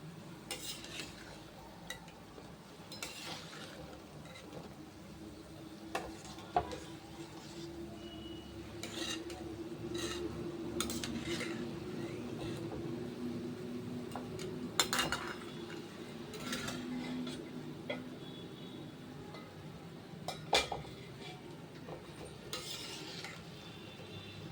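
Gulab jamun fry in hot oil with a soft, even sizzle, while a utensil stirs and scrapes the pan in scattered clicks and knocks.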